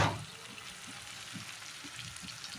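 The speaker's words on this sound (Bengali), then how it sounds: "মশলাটা ভাজা হয়ে গেছে দেখো তেল ছেড়ে দিয়েছে নিচে দিয়ে লেগে যাচ্ছে" Spice paste fries in oil in a pan, the oil separating and the paste catching at the bottom: a steady, soft crackling sizzle with occasional stirring scrapes, close and alone.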